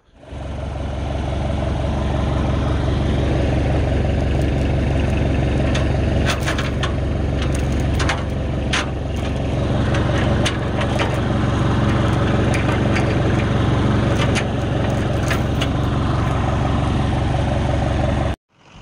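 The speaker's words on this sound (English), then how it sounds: "Sorry about the truck noise in the background." A truck engine idles continuously nearby on a rural farm, a steady, loud low rumble throughout, with a few brief clicks and knocks over it before it cuts off at the end.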